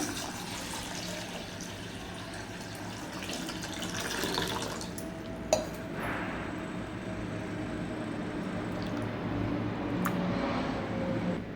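Sabudana (sago pearls) are rinsed in a bowl of water for khichdi, a continuous soft swishing and trickling with a brief clink partway through and no talking.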